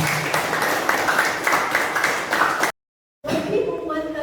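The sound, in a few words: classroom applause for a classmate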